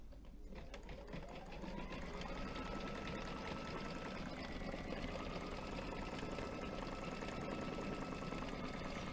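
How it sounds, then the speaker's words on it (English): An embroidery machine fill-stitching tiny red flowers whirs in a fast, steady needle chatter with a faint motor hum underneath, continuous and close throughout. "This now is going to do a filled stitch of the little tiny red flowers"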